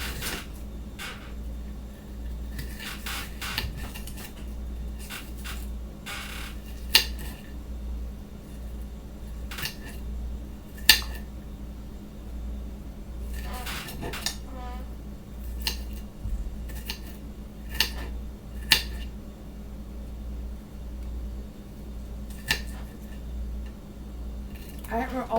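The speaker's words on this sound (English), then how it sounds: "now we're chopping our onion" A kitchen knife chops an onion in sharp, irregular taps on a cutting board, some louder than others, over a steady low hum with faint background noise.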